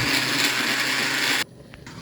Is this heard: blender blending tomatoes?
yes